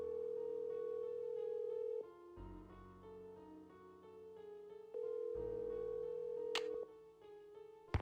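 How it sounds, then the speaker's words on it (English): A steady telephone dial tone from a phone call in the Nancy Drew game Message in a Haunted Mansion, a continuous hum with brief pauses and tone changes, clear and alone with no talking. "Let's make a phone call."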